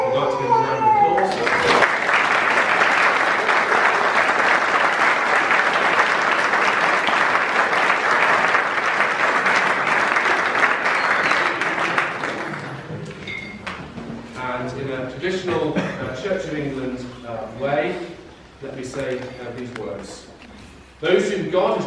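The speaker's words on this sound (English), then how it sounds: "I'd like to give them a round of applause." Wedding guests applaud loudly and continuously at a ceremony for about ten seconds before the clapping fades, after which someone speaks.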